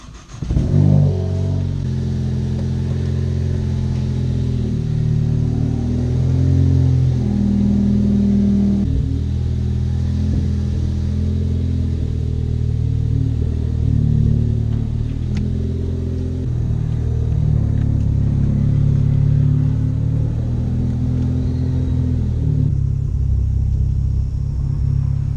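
A modified car engine with intake and throttle body spacers rumbles loudly and steadily, with its revs rising and falling in waves over a continuous low drone, heard up close and alone.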